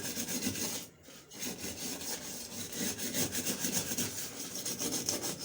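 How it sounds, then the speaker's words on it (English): Steady abrasive scrubbing of burnt black residue from cookware, a continuous close rasping rub with rhythmic strokes and one brief pause near the start, no talking. "so I want to scrub those black parts"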